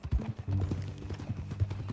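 Horse hooves clip-clop at a walking pace in Red Dead Redemption 2, a close, uneven series of soft thuds with low game ambience underneath.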